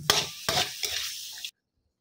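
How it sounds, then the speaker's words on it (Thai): Straw mushrooms and minced pork stir-fried in a pan with chili paste, close scraping stir strokes in a few distinct pushes over a soft sizzle, ending abruptly in silence. "พอหมูใกล้สุกนะคะเราก็ใส่เห็ดลงไปได้เลยค่ะ"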